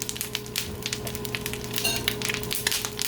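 Butter pops and sizzles steadily in a pan while salmon patties fry, with dense crackling and a few sharper pops through the whole stretch, fairly close and moderately loud with no talking.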